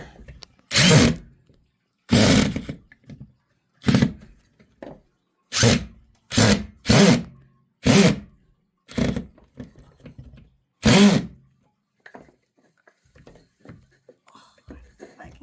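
A power drill drives screws into a metal cat shelf bracket in about ten short, separate whirring bursts with pauses between them, close and fairly loud, with soft handling noises in the gaps.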